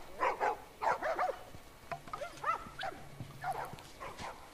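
Puppies yap in short, scattered barks at moderate distance in The Last of Us Part 2, with faint background ambience.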